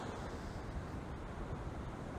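Ocean waves and surf wash steadily onto a beach at night, a constant broadband roar with wind rumble, fairly faint and unbroken, with no voices.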